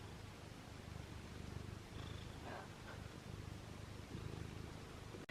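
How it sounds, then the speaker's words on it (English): A house cat purrs loudly and continuously up close, a steady low rumbling rhythm in a quiet indoor room, with a faint rustle near the end. "y'all hear how loud his purr is right now?"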